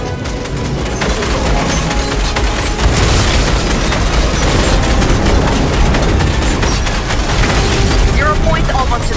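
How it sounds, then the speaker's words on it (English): Crystals detonate the zero point during the Fortnite Chapter 3 Season 2 finale event, a dense, loud, continuous barrage of booming blasts and crashing impacts that swells further after the first few seconds. "Those crystals will detonate the zero point."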